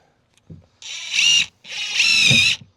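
A power drill drives screws while fitting a felt wall panel inside a Ford Transit van, with two loud, whining bursts of about half a second each and a short pause between them.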